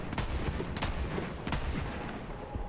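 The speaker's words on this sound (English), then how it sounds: "Who are you shooting at?" Gunfire in Borderlands 3, three sharp shots spaced about every 0.7 seconds over a dense, busy game background, close and fairly loud with no voices.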